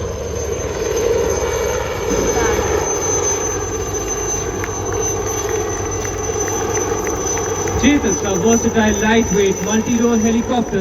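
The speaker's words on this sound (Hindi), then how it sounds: "ठीक उसके बाद एक चॉपर हमारे तिरंगे और नेवी के ध्वज को लेकर वायु दौरा करते हुए जाता है।" An Indian Navy helicopter passes overhead at the Navy Day 2024 parade at the Gateway of India in Mumbai. Its loud, continuous engine and rotor roar grows toward the end over the noise of the crowd.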